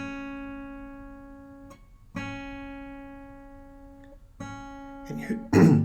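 Plucked free strokes on a fingerstyle guitar, three clear ringing notes spaced about two seconds apart, each sustaining and fading, followed by brief handling noise and a louder scrape at the end.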